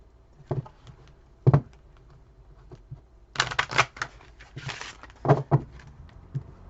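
Tarot cards being handled and shuffled, irregular taps and short bursts of riffling with pauses between, close by and without speech.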